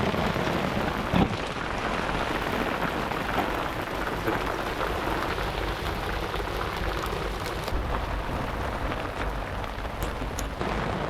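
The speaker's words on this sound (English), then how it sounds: "it started hailing really heavily." Heavy hail pelting down at Mallaig Harbour in Scotland in June, a dense, steady roaring clatter with occasional louder hits, continuous and close throughout with no voices.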